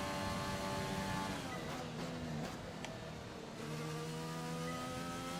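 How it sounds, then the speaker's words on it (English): Honda Formula 1 engine in the racing game F1 2020 revs loudly and steadily, its whining tone dipping briefly in the middle before climbing again, heard alone without talk. "the Honda engine sounds really good"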